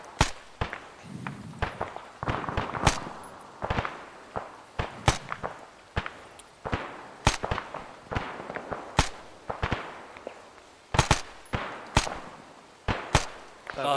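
Repeated gunshots during a live tactical operation with weapons firing, sharp loud cracks spaced irregularly over the whole stretch, some in quick pairs, with faint footsteps and movement between them.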